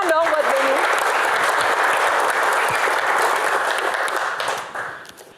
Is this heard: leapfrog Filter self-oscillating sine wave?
no